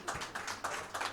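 A church congregation at a fasting prayer meeting clapping hands in a quick, loud rhythm of sharp bursts, with no talk over it.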